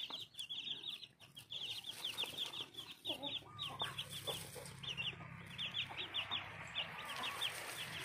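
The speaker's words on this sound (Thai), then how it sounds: "ไก่ดำ" Black chickens at a small farm in Phetchabun, Thailand, cluck in quick repeated bursts over several seconds, fairly faint and close, with a low outdoor rumble beneath.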